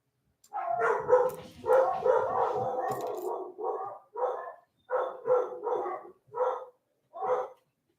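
Dogs bark in a rapid cluster, then in a string of separate, evenly spaced barks, fairly close and with no talking.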